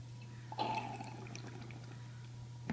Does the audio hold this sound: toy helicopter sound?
no